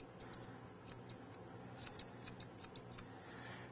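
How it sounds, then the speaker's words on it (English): Grooming scissors trim a poodle's ear hair in quick, crisp snips, about a dozen bright close clicks in uneven bursts over a quiet background hum. "I'm going to cut this line in nice and tight."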